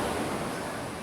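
Ocean surf at Pulau Merah beach in Banyuwangi, a steady broadband wash of breaking waves with some wind noise, continuous and fairly loud throughout the short stretch.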